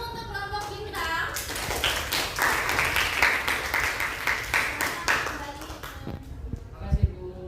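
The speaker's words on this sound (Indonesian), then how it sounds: "Mari kita berikan aplaus dulu untuk kelompok bintang." A classroom group breaks into applause for a student team after their poster project presentation, several seconds of dense clapping that fades near the end with a few stray claps.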